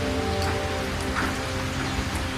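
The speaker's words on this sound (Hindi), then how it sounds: "पूरी रात बारिश होती रही।" Steady, dense rain falling at night during bitter cold, a continuous close hiss of drops with no break and no voices.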